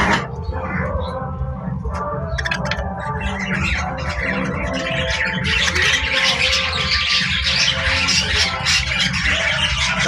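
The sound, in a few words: budgerigars calling around their nest pot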